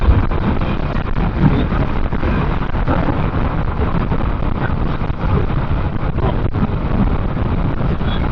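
Strong, steady wind buffets the microphone throughout with a constant roaring rush and occasional gusty thumps, loud and close, with no voices.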